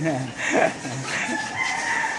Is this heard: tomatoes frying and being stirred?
no